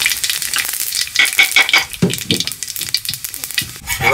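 Fennel seeds hit hot white oil in a heated wok and crackle and sizzle loudly up close, with sharp popping spatters that rise and fall over a few seconds.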